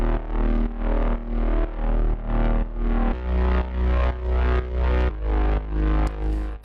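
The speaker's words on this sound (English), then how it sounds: "We then have a bass, which sounds like this" A thumping synth bass using the basic bass preset in Slate Digital Anna 2 pulses in a steady, evenly spaced rhythm, distorted and loud, alone in a pop production.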